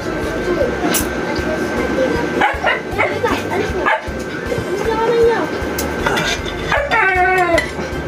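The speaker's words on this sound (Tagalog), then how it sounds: "Nagutom na aso ko." A hungry pet dog barks in short bursts and whimpers with rising, whiny yips near the end. It is close and loud, with a voice talking in the background.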